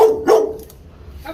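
A dog barks loudly and close by, giving a couple of sharp barks at the start and then going quiet, with a faint voice heard near the end.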